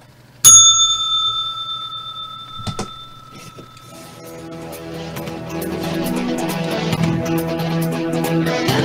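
A sharp metallic bell strikes once near the start, with a second fainter strike a couple of seconds later, marking the market open, then the ringing gives way to a busy rising layer of background sound.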